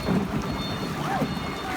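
Heavy rain pours steadily during a flood, a dense, loud continuous wash with low rumbling underneath and no clear breaks.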